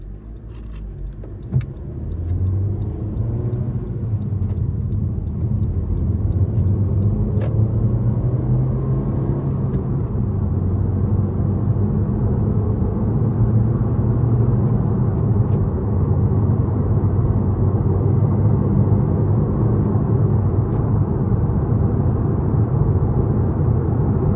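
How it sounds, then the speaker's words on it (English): A manual transmission car accelerates steadily from a standstill up through six gears, its engine drone rising and dropping at each shift, with a brief jingle of keys near the start and no talk. "That's all the way from a stop through sixth gear."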